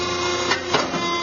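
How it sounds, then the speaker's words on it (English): Rhythmic mechanical clanking and whirring of a hydraulic paper cutter at a printing company, with a few louder thumps recurring roughly every quarter second, close and steady, no voices. "It's the sound of a hydraulic paper cutter."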